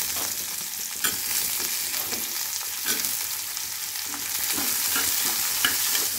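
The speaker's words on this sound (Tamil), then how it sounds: "கட் பண்ணி வச்ச சவச்சவ் போட்டுக்கலாங்க" Cut chayote (chow chow) frying in a pan for sambar, with a steady bright sizzle and periodic scraping stirs, several spoon strokes spaced a second or two apart, close and fairly loud with no talking.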